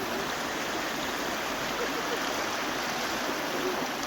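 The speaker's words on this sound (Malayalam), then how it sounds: "നല്ല ഒഴുക്കാണ് വെള്ളത്തിന്." Strong river water flowing down from Kakkayam dam, a loud, steady rushing roar that holds unchanged throughout, with no voices.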